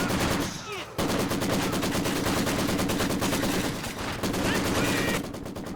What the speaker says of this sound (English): Maybe need to get a little bit more active with this machine gun, getting it involved in this fighting as well